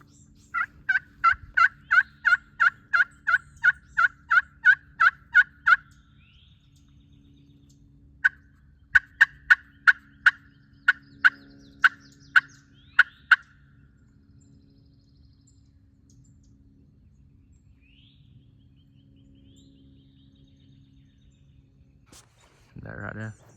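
An Eastern wild turkey gobbles repeatedly from a distance in spring in South Carolina, in two long rhythmic bursts, followed by quiet and a brief louder sound at the end.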